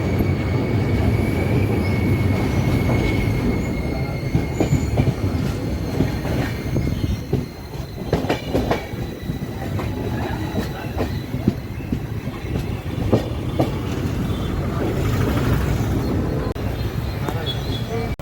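A moving train rumbles steadily, its wheels clattering on the rails with occasional squeals, while faint voices murmur in the background.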